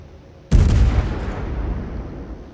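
A warship in World of Warships fires a naval gun salvo: one sudden, loud, deep blast that rolls into a long rumbling decay, with no voices over it.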